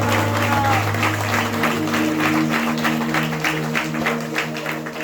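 A church congregation applauds at a seminar, a sustained wash of many hands clapping fairly close and loud, with sustained musical tones and voices running underneath.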